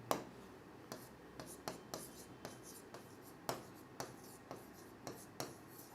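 Writing on a board during a physics lesson, a run of sharp, quiet taps and short strokes in an irregular rhythm, close by, with faint speech in the background.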